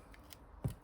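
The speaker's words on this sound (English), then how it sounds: "I'm just going to cut another piece" A single quick snip of scissors cutting through a piece of ribbon, soft and close in a quiet room.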